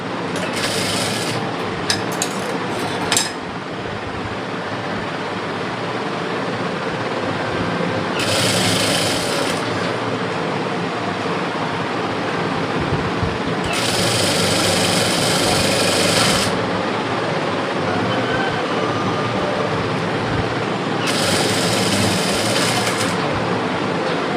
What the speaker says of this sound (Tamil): கையில் அடிப்பாகத்தில் ஒரு தையல் போட்டுருங்க